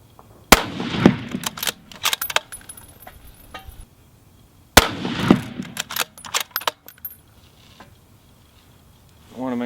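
Two loud, sharp rifle shots from a Savage 10FP in .308 Winchester on a 100-yard range, each followed by a ringing decay and handling clatter, spaced about four seconds apart.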